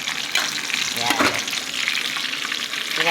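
Galunggong and milkfish (bangus) frying together in a pan give a steady, loud oil sizzle with crackling pops throughout, with no voices.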